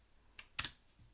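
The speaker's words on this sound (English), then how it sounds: "by typing localhost" Quiet typing on a computer keyboard: a few soft key clicks, one lighter and one firmer pair of taps, in a hushed room.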